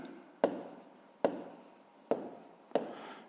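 A pen writes on paper in four short bursts, each opening with a sharp tap and trailing into soft scratching. It is close and quiet, with no talk.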